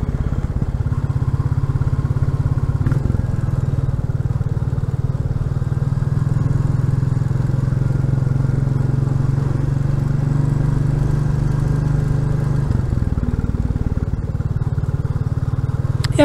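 A Royal Enfield Classic 350 motorcycle rolls over gravel on a pass descent, its steady single-cylinder thump loud and continuous, with a faint crunch and a couple of brief knocks and no talk.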